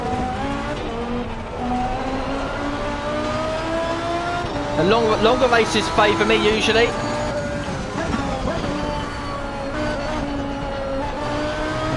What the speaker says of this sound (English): I'm pretty sure it is a V12 in the background, but in the downshifts, it just sounds lovely.